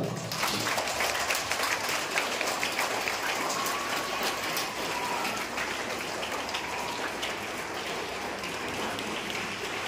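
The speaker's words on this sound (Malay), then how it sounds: "Bagi tepukan untuk peserta kita." Students at a school co-curricular assembly applaud their sports participants, a broad, sustained wash of clapping from a large crowd that stays loud and even, sounding almost like heavy rain.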